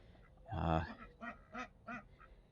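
Several ducks quack close by, one loud honking call followed by a run of shorter, evenly spaced quacks.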